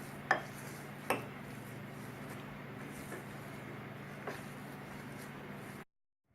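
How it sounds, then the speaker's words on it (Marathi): A spoon stirs a vegetable cutlet mixture seasoned with chaat masala, with two sharp clinks against the bowl early on and fainter scrapes after, all quiet and close before an abrupt cutoff. "मी थोडासा चाट मसाला टाकून घेणार आहे। पुन्हा हे सर्व मिक्स करणार आहे।"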